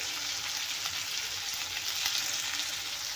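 Tomatoes cooking soft in hot oil for a quick chutney, giving a steady, close, continuous sizzle and crackle with no pauses and no voices.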